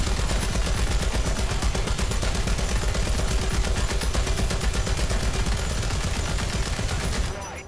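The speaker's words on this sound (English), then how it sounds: "Open up, machine guns!" Machine guns firing in War Thunder tank combat, a loud, dense, continuous stream of rapid bursts with heavy low rumble that holds steady, then drops off at the very end.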